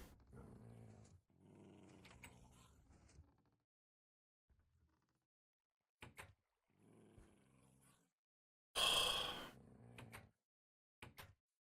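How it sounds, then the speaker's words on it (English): A Minecraft wolf growls in a few low, rough bursts, close and fairly quiet, broken by short silences and a sharper sound near the end. "Yeah, you're a scary wolf, I know."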